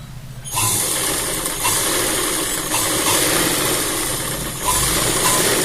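A sewing machine runs steadily and close while stitching a shirt placket. It keeps up a continuous whirring hum with a few slight shifts in speed.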